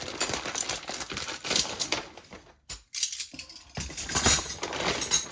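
Tekton metric combination wrenches clink and rattle as they are pulled from a plastic tray, a dense close-up run of metallic clatter broken by a short quiet pause.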